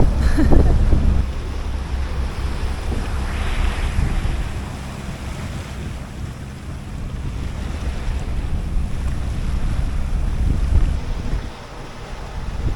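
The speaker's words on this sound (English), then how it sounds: "It's a lovely downwind sail, but ooh, it's chilly when the wind comes from behind." Steady wind gusting over a sailboat running downwind at about 20 knots on a sunny, cold day in Alaska's Inside Passage, with waves and water rushing along the hull, loud and continuous with mic buffeting and no talking.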